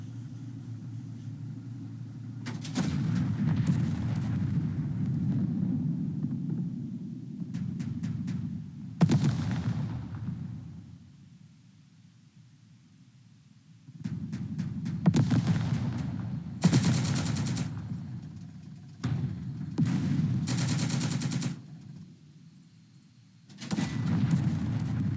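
Artillery fire in the World War II strategy game Second Front, with heavy rumbling booms and bursts of gunfire coming in several long loud stretches separated by quieter pauses.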